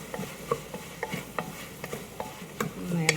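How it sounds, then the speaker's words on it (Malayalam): Whole fennel seeds being stirred in a pan for a duck roast, a quick run of light scraping strokes at a steady rhythm, close and moderately loud with a faint sizzle underneath. "ഒന്ന് ഇളക്കി കൊടുക്കാം."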